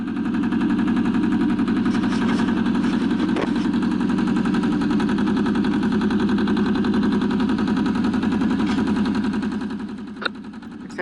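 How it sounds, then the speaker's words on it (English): A small two-cylinder diesel engine runs on a roller tamper compactor for soil, chugging in a steady, loud, rapid rhythm close by, with a couple of sharp knocks near the end and no talk. "This is a diesel machine."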